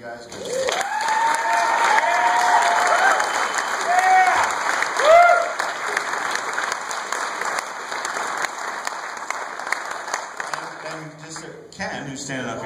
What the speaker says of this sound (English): Can I have a round of applause for these 3 guys?